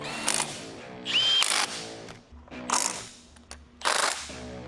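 Hand ratchet tightening bolts on engine parts of a supercharged V8 box truck, with oil pan, baffle and pickup going on: several separate bursts of quick clicking, close and fairly loud, with short quiet pauses between them.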